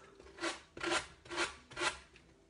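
Hand sanding strokes rasp along the edge of an MDF sign, wearing away the excess. Four separate strokes come up close and steady, each a rising and falling scrape with short pauses between.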